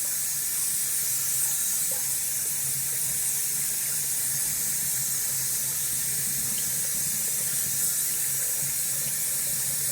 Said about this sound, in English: Let's let the water out. Pardon the noise.